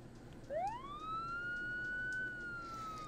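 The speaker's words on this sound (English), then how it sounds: "you hear sirens coming your direction quickly" A police siren played as a sound effect during a tabletop role-playing session rises into a long sustained wail, heard alone against a low background hum and growing from faint to clearer.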